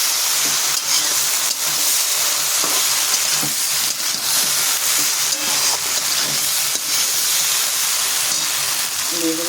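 Prawns fry in a hot pan with spices, giving a loud, continuous sizzle with frequent scraping stir strokes close by, and no talk over it.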